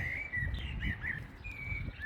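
Small birds sing in village gardens, with bright chirps and short whistled phrases repeating over a low rumble of outdoor background, moderately close and clear.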